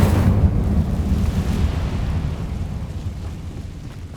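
Incendio fire spell cast in Hogwarts Legacy: a loud, sustained roaring burst of flame with deep rumble that slowly fades over a few seconds, heard alone.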